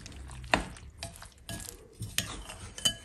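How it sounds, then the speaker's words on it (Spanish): Three whole eggs being mixed into a batter in a bowl, heard as soft stirring with a few light clinks of utensil against the dish, quiet and intermittent. "Le voy a agregar los 3 huevos enteros. Igual vamos a integrar muy bien."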